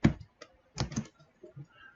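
Keystrokes on a computer keyboard while entering code, coming in short irregular bursts of clicks with brief pauses between them, close and fairly quiet.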